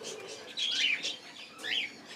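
Budgerigar chicks in a colony breeding aviary chirp in short bright bursts, a few close calls rising and falling over a soft background murmur.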